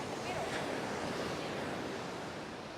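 Ocean surf at Sunny Isles public beach in Florida, a steady broadband wash of breaking waves heard nearby, mixed with gusty wind buffeting the microphone, continuous and fairly loud for the whole stretch with no clear voices.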